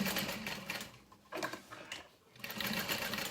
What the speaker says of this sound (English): you're just gonna sew around it in a U shape